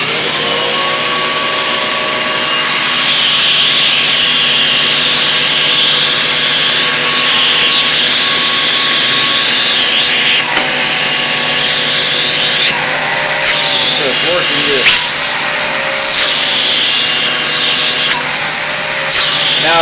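A clogged Dirt Devil vacuum cleaner runs loud and close with a strained high whine, steady for a while, then wavering and surging in pitch near the end.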